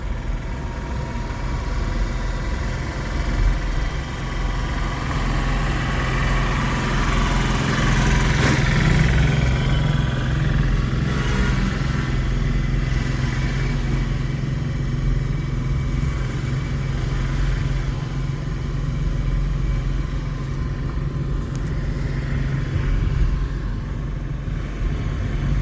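A car's engine hums steadily through a driving lesson in Ranchi, a continuous mid-level drone with slight swells as the accelerator is pressed, no talk heard.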